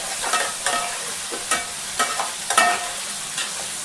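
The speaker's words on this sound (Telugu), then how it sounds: "ఈ పచ్చిమిరపకాయ, ఉల్లిపాయ ముక్కలు, కరివేపాకు బాగా మగ్గాలి" Onions, green chilies and curry leaves fry in hot oil with a steady bright sizzle, broken by the scrape and clack of a spoon stirring every half second or so, close up and without talk.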